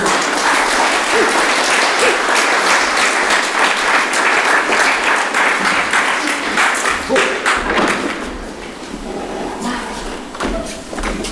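An audience at a musical comedy stage show breaks into loud, dense applause that holds steady, then thins out and fades near the end.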